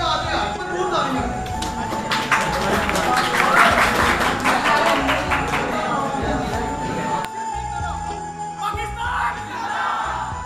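Students at a government college of technology in Sialkot clap and cheer in a hall, a loud crowd burst that swells then fades, with voices and shouts mixed through it.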